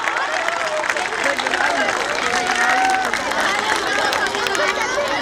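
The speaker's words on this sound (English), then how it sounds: "May I request you all to please give a big round of applause for our admin staff" An auditorium audience at a school annual day claps and cheers for the admin staff, a dense continuous wash of applause and crowd chatter that holds steady for several seconds.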